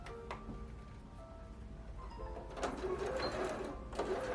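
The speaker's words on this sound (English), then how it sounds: "We're going to sew around the edge of the square" A sewing machine stitches two fabric squares together for reusable face pads, its motor whirring up into a steady, fairly quiet mechanical hum after a few faint clicks.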